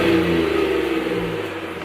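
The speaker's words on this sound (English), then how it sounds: "Let's hear a quick rev of what this sounds like." A stock-exhaust Ford Raptor engine gives a quick rev, a brief throaty swell that falls away within about two seconds, heard close up with no talking.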